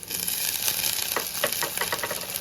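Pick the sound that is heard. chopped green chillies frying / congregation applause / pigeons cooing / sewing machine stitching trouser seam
chopped green chillies frying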